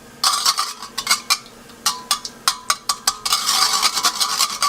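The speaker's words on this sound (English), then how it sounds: "whisk this for some time" A whisk beats a vanilla syrup mixture in a bowl with rapid, close metallic clicks against the sides, coming in quick bursts and then a steadier continuous scraping rhythm.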